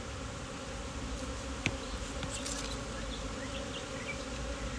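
Honey bees buzz steadily and densely around an opened hive during an inspection, a constant close drone with occasional faint clicks and no talking.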